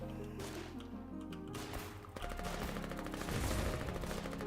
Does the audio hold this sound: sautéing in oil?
no